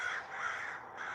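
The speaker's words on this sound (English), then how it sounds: "you got them damn birds, man. Crows and ravens and shit." Crows caw again and again from trees in a backyard, the harsh calls close, loud and steady, with no other sound over them.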